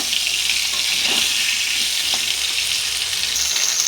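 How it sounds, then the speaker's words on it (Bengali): Potatoes frying in oil left over from frying fish give a steady, dense sizzle that holds loud and close for the whole stretch, with no voices over it. "সব আলুগুলো দিয়েছি, একটু সুন্দর করে ভেজে নেব।"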